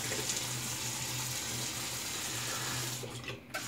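Tap water running steadily into a sink while a shaving brush is rinsed, a constant close hiss and splash that briefly breaks up near the end.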